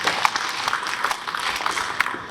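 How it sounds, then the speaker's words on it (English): An audience at a national ICT symposium for persons with disabilities claps for about two seconds in a dense, even patter that neither swells nor fades. "You can clap for them if you don't know."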